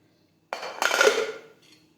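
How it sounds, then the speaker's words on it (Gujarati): A metal pressure cooker lid comes off on a home stove after a single whistle, giving a sharp clanking clatter followed by a short metallic rattle, close and alone. "હવે આપણે કુકરનું ઢાંકણું ખોલી લઈશું"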